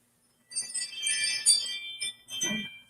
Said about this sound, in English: Sorry, that's my doorbell thing.